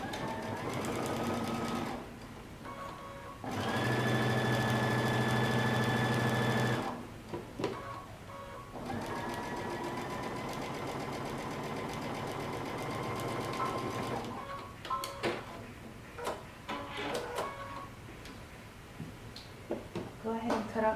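A domestic sewing machine stitches down a coat pocket in bursts of rapid mechanical whirring separated by pauses, with a person talking throughout.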